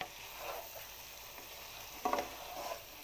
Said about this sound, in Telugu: ఇప్పుడు దీన్ని కలుపుకుందామండి బాగా.